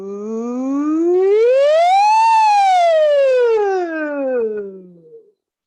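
In a voice class exercise, a voice imitates a siren, one long smooth glide rising to a high peak and falling back down, sustained and fairly loud, then trailing off.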